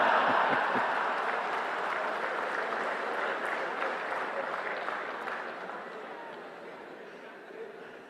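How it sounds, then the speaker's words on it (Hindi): Sustained audience clapping rolls through a packed hall at the Semicon India 2025 opening at Yashobhoomi, loudest at the start and slowly thinning and fading over the following seconds. "आया हूं इसकी ताली बजा रहे हो।"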